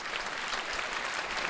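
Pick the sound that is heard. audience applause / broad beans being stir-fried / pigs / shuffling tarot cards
audience applause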